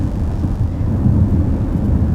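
Deep, throaty rumble of a 2021 BMW X6 M50i V8 engine, 523 hp, a steady low-pitched drone that stays loud and even throughout with no voices.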